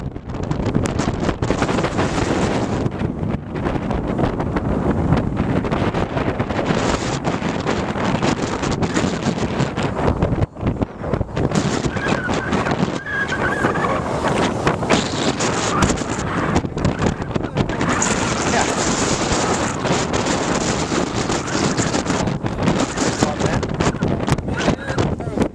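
Strong wind buffets a small fishing boat out bass fishing on a windy day, a constant close rumble and rush of wind noise across the microphone, with people talking intermittently over it.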